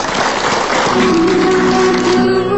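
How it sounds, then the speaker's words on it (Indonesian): Audience applause welcoming the next guests at an Islamic inspirational talk event, a loud steady wash of clapping with a sustained musical tone rising underneath in the second half. "Tepuk tangan Subhanallah. untuk tamu kita berikutnya."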